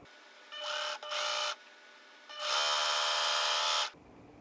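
A sewing machine stitches along the long edge of a T-shirt romper's leg cuff in short whirring bursts, two quick runs then a longer steady one, close and clear.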